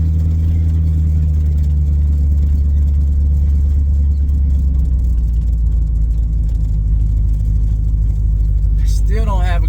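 A Plymouth Barracuda car engine idles roughly with a loud, uneven low rumble that holds steady throughout, and a brief high squeal comes in at the very end.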